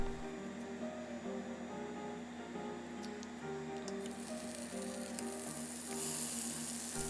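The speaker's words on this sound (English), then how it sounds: "Cut into thin slices and fry crispy." Thin slices of luncheon meat (spam) fry crispy in a pan with a steady, soft sizzle and faint crackle. The sound stays continuous and fairly quiet throughout, with no talking.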